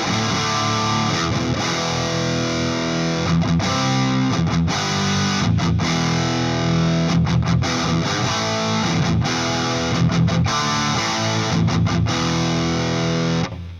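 Electric guitar played through a Marshall DSL 100H amp with resonance and presence turned up, giving a thick distorted tone of sustained chords and riffs, loud and continuous, with no voices.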